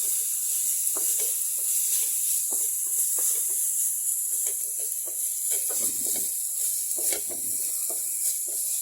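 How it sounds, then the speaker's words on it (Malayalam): Grated coconut, green chili, onion and curry leaves sauté in hot oil for a jackfruit-seed thoran, giving a steady close sizzle with soft stirring scrapes throughout. "ഇതിലേക്ക് നമ്മൾ ഒതുക്കി വെച്ചിരിക്കുന്ന തേങ്ങയും പച്ചമുളകും കൂടെ ഉള്ളിയും കൂടെ ഒതുക്കി വെച്ചത് നമുക്ക് ഇട്ട് കൊടുക്കാം"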